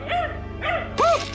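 A cartoon dog gives three close, loud barks, evenly spaced, with a low musical hum underneath.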